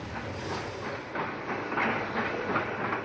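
A train passes through a Welsh railway station, giving a steady, loud broadband rumble with faint rhythmic clatter and no voices.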